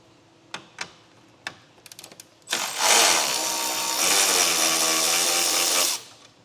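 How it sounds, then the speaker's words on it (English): A power driver backs out 10mm bolts along the front grille of a 2016 Chevrolet truck: a few sharp handling clicks and taps, then one close, steady whirring run lasting about three and a half seconds before stopping. "we're going to go ahead and remove the 4 10mm bolts lined along the front grille here"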